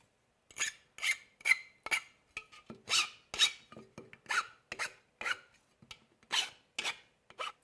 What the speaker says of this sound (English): Let me finish filing it, and we'll go attach it to the robot.